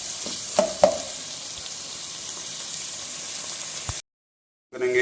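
Chicken manchurian sautéing in a pan with vinegar, a steady close sizzle with a couple of soft stirring knocks early on, cutting out briefly near the end before resuming.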